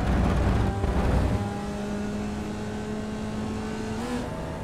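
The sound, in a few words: Formula Vee race car engine at full throttle, iRacing video game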